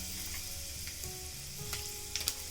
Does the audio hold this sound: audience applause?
no